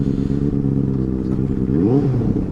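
A Benelli 600i superbike's engine revs hard at full throttle, a loud, steady, close-up roar whose pitch rises and then dips briefly near the end, with no talking.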